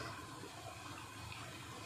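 Water pours into a cooking pot of oil, cinnamon, cardamom, green chillies and coriander for a festival biryani, making a soft, steady rush that runs unbroken and fairly faint throughout.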